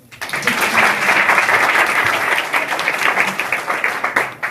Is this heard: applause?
yes